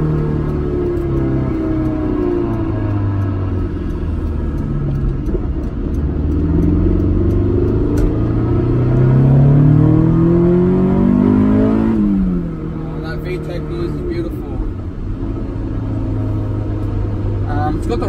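A Honda S2000 AP1 engine hums and rises in pitch through the gears, then drops away and settles again, heard loud and close from inside the car with someone talking over it.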